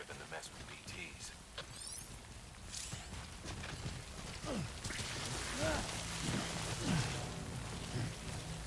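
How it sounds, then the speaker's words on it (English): Rain falls in the video game Death Stranding as a quiet, steady patter, with a person talking over it. "Good thing it was raining."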